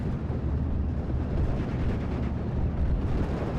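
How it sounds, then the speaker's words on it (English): In the Normandy 44 strategy game Steel Division, a P-47 Thunderbolt strafes troops in a dense, rumbling rush of rapid gunfire and blasts that runs unbroken and loud, with no voices. "So Thunderbolt going to be coming down and strafing the SOS troop once again."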